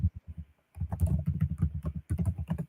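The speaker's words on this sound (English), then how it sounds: "I'm typing it for y'all" Rapid typing on a computer keyboard, close and clear, with a brief pause before a steady run of quick key clatters.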